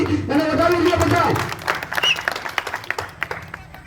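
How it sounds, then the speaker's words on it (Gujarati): A crowd at a village farmers' assembly in Dodhiya, Jamnagar, claps in a burst of scattered, uneven applause that follows a man's loud address and gradually thins out into separate claps. "ફરીવાર તાળીઓથી એને વધાવી લે બધા"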